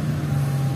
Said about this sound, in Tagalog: Kaya maingay yung mga sasakyan guys.